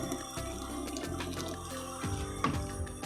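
Blended peanut juice pours from a blender jug, a continuous close liquid gurgle and splash with shifting pitch as the stream changes, loud and steady for the whole stretch.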